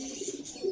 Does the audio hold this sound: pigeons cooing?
yes